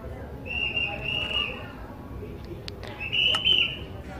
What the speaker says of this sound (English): Someone's whistling outside.